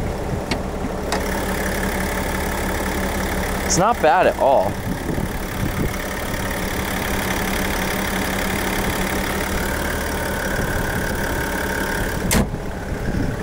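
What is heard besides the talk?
diesel truck engine idling, hood open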